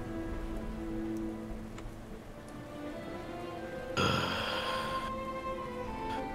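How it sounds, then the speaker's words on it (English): Rain streaks down car windows on a night drive, heard as a soft, steady patter with a brief louder rush partway through, faint and continuous with no voices. "One individual in particular sits and watches out the window as rain streaks down as the trees passes."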